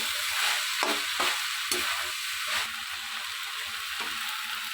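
Steamed banana flower being stir-fried with potatoes and soaked chickpeas in a pan, a constant close sizzle broken by soft scraping strokes of a spatula every second or so, with no talking.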